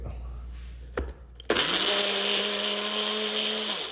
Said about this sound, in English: Now, throw it right in this blender here.